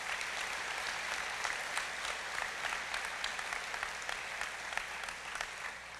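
A crowd claps together in a big round of applause at a State of the Nation address, fairly distant and soft, with an even patter that holds steady throughout.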